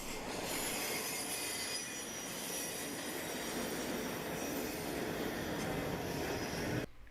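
Westbound auto train hauled by BNSF locomotive 4015 on the NS Huntington District passes close by, a loud sustained rumble with persistent high-pitched wheel squeal and rail clatter, ending abruptly.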